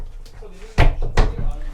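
On a Maxus 35 cruiser boat, an interior linking door is pulled open, giving two sharp knocks or clunks about half a second apart over a low background hum, with a person speaking nearby.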